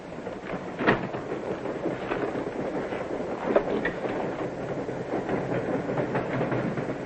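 Steady rumbling clatter of a moving train, continuous and fairly loud, with a few sharper knocks and bangs over the rolling noise.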